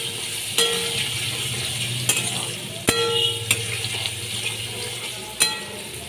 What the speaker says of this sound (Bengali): আলুগুলোকে আমি ভালো করে ভেজে নেবো